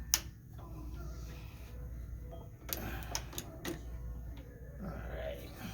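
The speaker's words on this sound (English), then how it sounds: "This is called a curved needle stitcher." Curved needle stitcher in a boot and shoe repair shop sewing through a boot sole, a quiet run of mechanical clicks and ticks with brief louder clatters, close and fairly faint.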